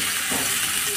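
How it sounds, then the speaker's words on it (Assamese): Onion, tomato, capsicum and ridge gourd fry in a pan with a dense, steady, close sizzle and hiss that runs unbroken throughout. "এতিয়া এইখিনি ভাজি ল'ম অলপ"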